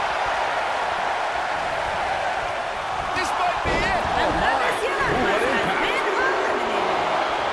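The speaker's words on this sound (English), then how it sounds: "Listen to this crowd." Arena crowd roar from the WWE 2K19 wrestling game during a 30-man Royal Rumble, a steady loud wash of cheering throughout with a commentator talking over it.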